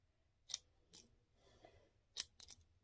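Scissors snipping hair during a salon hair install, a handful of sharp, crisp snips spaced irregularly, close and clear over a quiet background.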